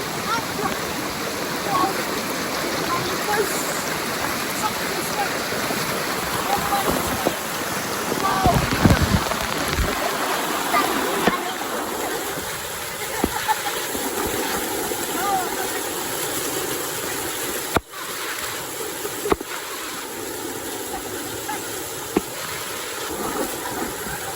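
A waterfall at a falls in the Bacolod area roars as a steady, broadband wash of rushing water that runs unbroken throughout, with faint voices and bumps over it.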